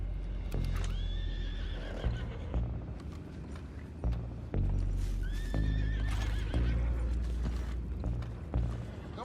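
Two loud, shrill horse whinnies in Red Dead Redemption 2 rise and tremble over steady clip-clop hoofbeats and a low rumbling, creaking background.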